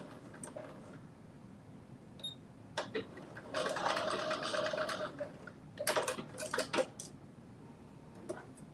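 A sewing machine stitches along a fold line about a quarter inch in on a Simplicity 9844 garment, running in two short bursts with scattered clicks and ticks between them in a quiet room.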